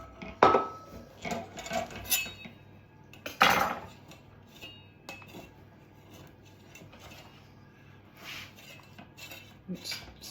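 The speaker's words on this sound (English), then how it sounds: "I'm going to have to go back to the palette knife now because I'm meeting some resistance" A palette knife scrapes and knocks against a greased cake tin while freeing a sponge cake, giving a few sharp metallic scrapes and clinks among quieter rubbing.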